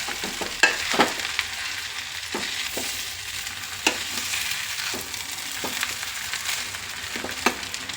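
Shavige bath being stirred and mixed in a frying pan, with a steady sizzle and irregular scraping, clinking strokes of a spoon against the pan, close and fairly loud, no talking.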